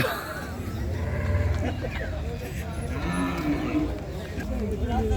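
Cattle at a border-area cow market in Nayanpur, Comilla, with a low moo rising from a busy crowd of talking people and general livestock-market bustle throughout.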